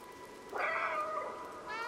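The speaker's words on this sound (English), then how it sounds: "Press B to meow." In the Stray video game, a cat gives a single clear, close meow lasting about a second, followed by a softer trailing sound.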